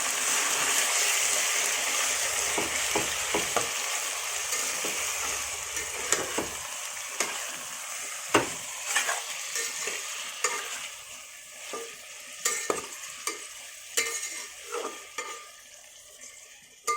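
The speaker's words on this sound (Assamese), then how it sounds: "এনেকৈ প্ৰায় আমি 15 মিনিটমান এনেকৈ সিজাই ল'ম। ভাজি ল'ম, এটা গ্ৰেভি টাইপ হৈ যাব।" Onions and gravy sizzle and fry in a pan for chicken biryani, a steady hiss broken by frequent scraping stirs and light metal clinks of a spoon against the pan, close and moderately loud with no talking.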